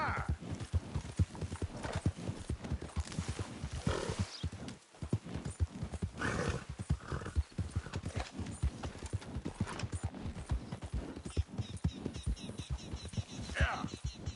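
Horse hooves clip-clopping at a quick gallop in the video game Red Dead Redemption 2, a steady loud rhythmic beat with a brief pause midway and faint whispered voices.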